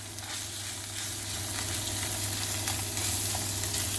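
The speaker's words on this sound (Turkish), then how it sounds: "bir yemek kaşığı kadar da salça atıyorum ve bunları kavuruyorum" Steady sizzling and crackling of tomato paste frying in a hot pan, a continuous close hiss with occasional faint stirring scrapes.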